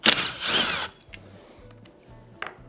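Power tool driving out a 6mm Allen bolt from a car seat, a short close high-pitched whir that winds up and cuts off, followed by faint clicks and quiet handling.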